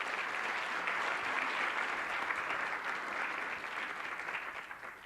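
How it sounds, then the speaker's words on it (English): An audience at an urban engagement conference bursts into sustained applause, a dense, even wash of clapping that holds steady for several seconds before starting to thin out. "give another round of applause for everyone"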